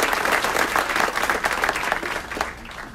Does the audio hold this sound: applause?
yes